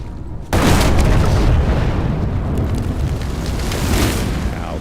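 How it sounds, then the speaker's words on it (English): Explosion in the Evil West video game: a sudden loud boom after a brief quiet moment, then a sustained roaring rumble with crackling debris for several seconds. "Now that is how you shape an explosion."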